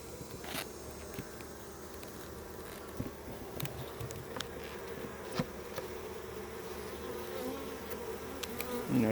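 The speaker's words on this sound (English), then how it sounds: "There's one bee that's kind of checking me out, but everybody else is relatively docile." Honey bees buzzing around an opened Flow Hive during an outdoor inspection, a soft continuous hum with individual bees passing close in brief louder swells.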